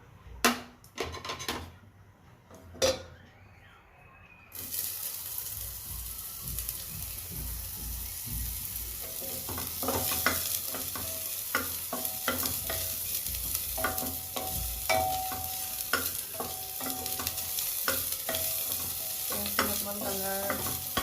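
Onions and cumin fry in oil in a pan for a baby's khichdi, a near, continuous sizzle with repeated scraping and tapping of a stirring spoon, after a few quieter clinks at the start, with no talking.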